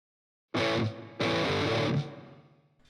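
A distorted electric guitar plays the low part of a riff, two loud sustained phrases with a brief gap between them, the second trailing into a fading ring, with no voices over it.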